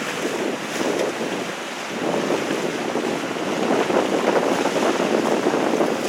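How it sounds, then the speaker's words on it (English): Wind rushes over open water near the sandbar off Darwin during a sailing club race, a steady loud buffeting roar with microphone wind noise and a wash of waves, no voices. "There's more wind behind us"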